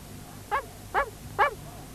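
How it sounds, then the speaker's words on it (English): A cartoon dog in a 1975 Noddy animated episode gives three short, evenly spaced barks, clear and close over a faint soundtrack hum. "But Bumpy wouldn't be quiet. He just kept on barking."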